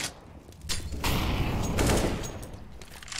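Rapid gunfire in the game Counter-Strike: Global Offensive during a tournament match, a dense burst of shots swelling in the middle of the clip, fairly loud with no talk.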